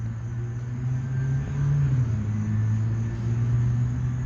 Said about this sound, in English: Look at that dust storm sweeping across the land.